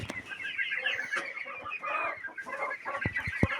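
Chickens clucking at a farm coop, a steady busy chatter of several birds with a few sharp louder squawks near the end.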